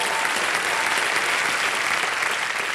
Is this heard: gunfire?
no